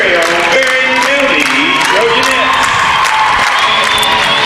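A crowd cheers and shouts at a Tuesday-night high school basketball game between the Barren County Trojanettes and Russell County, a steady dense roar of voices and whoops filling the gym, with a commentator talking over it.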